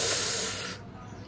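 A loud, close burst of hissing sizzle as green paste hits a hot pan for Hyderabadi hariyali chicken curry with butter, then the sizzle quickly drops to a softer simmer.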